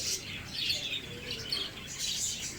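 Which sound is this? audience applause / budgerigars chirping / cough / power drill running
budgerigars chirping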